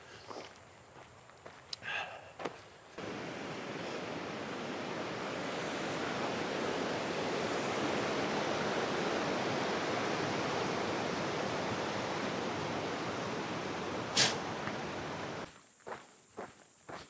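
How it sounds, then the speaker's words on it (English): A river rushing below a mountain trail, heard as a broad steady roar of water that swells and fills the middle of the clip, with brief footsteps and rustling at the start and end. "You can maybe make out the rushing water noise."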